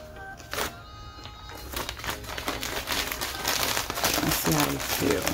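Crinkly plastic packaging being unwrapped from new cushion covers, with irregular crackling and rustling bursts throughout, growing a little busier toward the end, close by and moderately quiet with no talk.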